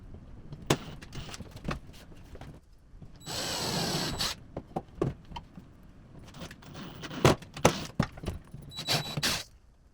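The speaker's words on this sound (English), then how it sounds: "It's basically just drilling pilot holes again and screwing it down." A power drill bores pilot holes while cabinet parts for Victron components are mounted on a sailboat, one sustained whirring burst among scattered knocks and handling clatter, fairly close, no voices.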